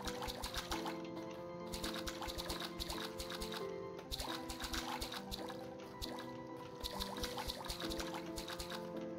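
Watering plants in the farming video game Staxel: soft repeated pouring and trickling water effects over a steady looping game soundtrack, fairly faint and continuous, with no talking.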